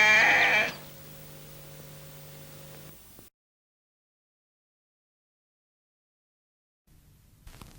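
A sheep bleats loudly and briefly at the start, followed by a steady low hum for a few seconds, then near silence before faint noise returns at the end.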